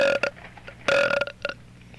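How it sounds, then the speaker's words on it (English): A woman burps loudly and close-up after eating chips, a few gulping belches with one long drawn-out burp in the middle, then a short trailing one. "this entire tape is going to be devoted to burping only"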